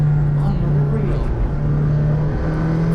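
McLaren Senna supercar engine droning steadily up close with a strong low hum, its gearbox shifting crisply with brief breaks in the tone, while a person talks over it.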